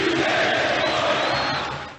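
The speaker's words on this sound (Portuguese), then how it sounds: "A torcida perde a cabeça com a equipe." A dense roar of Botafogo football fans at a Copa do Brasil match against Ipatinga, a sustained angry mass shout that holds steady and then cuts off.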